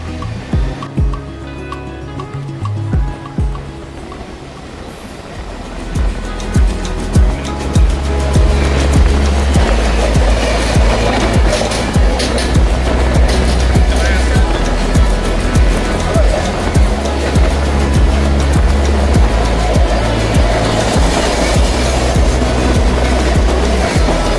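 A Howrah to Digha local train runs steadily along the track after leaving Santragachi, its rumble and rattle building after a quieter start and then holding as one continuous, loud, close roar.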